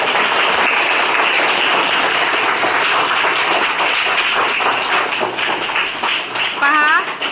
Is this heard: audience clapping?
yes